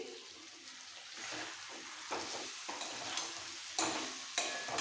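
Chicken roast in a pan being stirred as fried spice mix is worked in, with a steady sizzle under scraping spoon strokes that come in a few louder bursts near the end.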